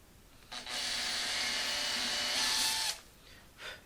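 A power drill reams out a tuner hole in the headstock of an HD-28 guitar, one sustained high whine of about two and a half seconds, close and loud, with brief quieter bursts before and after.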